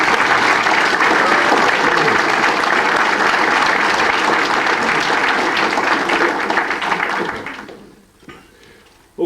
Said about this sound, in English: I think we all owe them some applause for it.